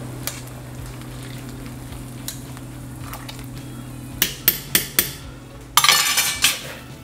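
Chicken is stirred with salt and ground black pepper, a quiet background hum giving way to a run of sharp utensil clinks against a bowl followed by a brief scraping burst.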